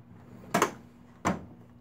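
An old Craftsman tool chest drawer slides open and shut nearby, giving two short scraping clatters about a second apart with quiet between them.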